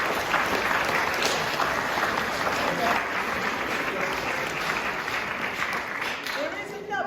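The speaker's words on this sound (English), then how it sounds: "I would like you to give them a round of applause" Audience applause at a school celebration assembly, a loud, continuous wash of many hands clapping together that holds steady throughout and eases slightly toward the end.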